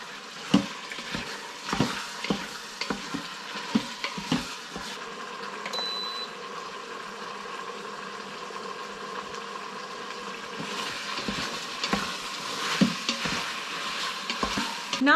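Beef browning in a Midea Instachef electric pot, a steady close sizzle and hiss with scraping stirs now and then, getting louder again toward the end, no talk.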